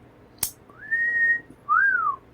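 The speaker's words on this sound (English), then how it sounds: "You're getting wolf whistles." Two rising-and-falling whistled tones, the classic wolf whistle, come close and clear after a sharp click, with no talking.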